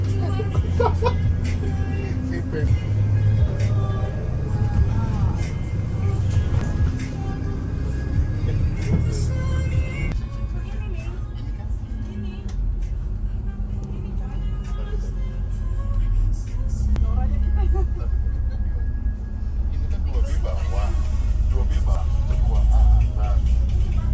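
A long-distance coach engine rumbles steadily as it drives from Blitar toward Bali, low and continuous, with voices talking faintly in the cabin.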